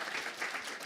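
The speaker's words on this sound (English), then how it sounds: "Big round of applause for Mods Blkwitch." Steady applause from a panel audience at a RuneScape RuneFest event, a brief wash of many hands clapping at once.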